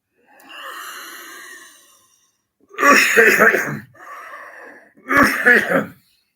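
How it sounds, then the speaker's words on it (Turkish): A person coughs twice in harsh, close bursts, with wheezy breathing before and between them; no words are spoken. "bu öksürük bazen program yapmamızı engelliyor"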